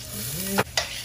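Rice frying and being stirred in a pot for a Belizean-style stew beef meal, a steady sizzle broken by two short, loud scrapes of the spoon near the end.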